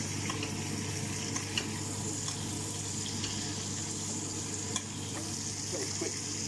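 Pan-seared rump steak frying while hot fat is spooned over it, a soft continuous sizzle with faint stirring and spoon clinks, fairly quiet and without speech.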